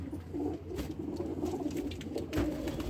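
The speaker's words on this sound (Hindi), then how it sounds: "एक वो देखो वो बुजुर्ग सा कबूतर बैठा हुआ है" An old pigeon coos softly at low volume, a steady run of calls blending with faint chirps from other birds nearby.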